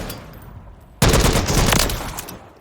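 A tactical weapon fires a sudden, loud burst of rapid shots in Call of Duty Modern Warfare III, starting after a quiet second and ringing on for over a second before fading.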